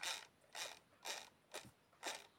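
A small mechanism turned to the right gives five faint, evenly spaced clicks, each a short bright tick about half a second apart, close up and alone in a quiet room.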